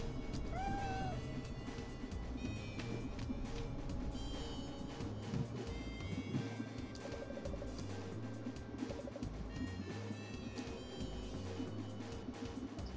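A cat meows a couple of times early on inside the video game Time Hollow, moderately clear above a dense, steady bed of game music and ambient sound that continues throughout.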